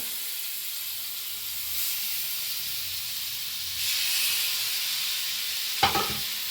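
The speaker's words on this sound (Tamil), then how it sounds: "வாங்க ஃப்ரெண்ட்ஸ் மீன் வந்து வறுக்கலாம்" Sardines frying in a pan: a steady, moderately loud hiss of hot oil runs throughout, swelling slightly midway, with one sharp clank of a utensil near the end.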